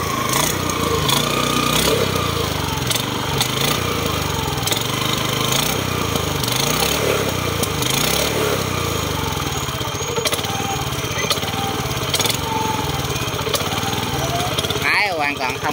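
Mitsubishi 180 engine running steadily at close range, a continuous loud chugging mechanical rattle that lasts throughout.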